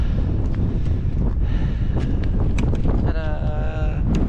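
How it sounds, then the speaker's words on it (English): Strong gusts roar across a microphone at a small summit on the Beinn Eighe mountain path, a loud continuous rumble with faint voices and brief rustles under it. "You might not be able to hear me with the wind"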